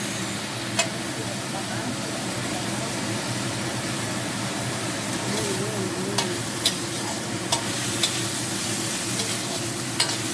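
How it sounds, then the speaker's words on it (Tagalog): A pot of sinigang soup with milkfish head and tomatoes bubbles and simmers steadily with a constant low rumble, a few faint clicks and knocks breaking through the continuous boiling hiss. "Boiling na siya. Boiling."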